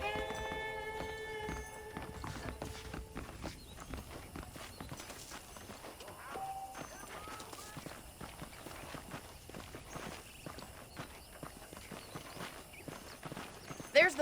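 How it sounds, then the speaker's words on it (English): Saddled horses walk with steady clip-clopping hooves in the Red Dead Redemption video game, a close rhythmic patter over faint background music, continuing throughout. "The horses are saddled up over here."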